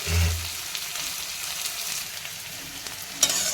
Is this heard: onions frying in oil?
yes